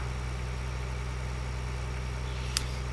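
A tractor engine in the video game Farming Simulator 2013 hums steadily at a low, even idle-like drone throughout, with a brief sharp click near the end.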